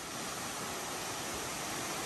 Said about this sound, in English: A bunch of waterfalls.